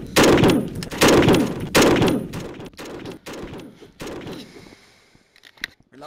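Gunshots from a video game gun ring out in about six loud, evenly spaced bursts, each a sharp crack with a ringing tail, before tapering to quieter rustles and a faint click near the end.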